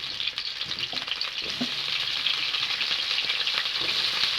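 Potatoes frying in hot oil for a country chicken curry, a bright continuous sizzle that swells after the first second and holds steady, with faint stirring knocks underneath.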